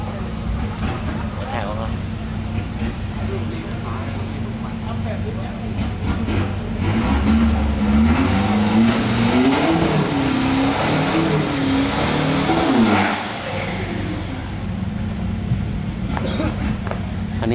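A turbocharged race car numbered seven drives and revs at a drag-style event, engine droning and rising in pitch near the middle, with someone talking over it throughout.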